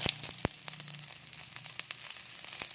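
Onion hits a very hot wok and sizzles steadily, a bright hiss up close with a few sharp clacks of utensils, without any talking.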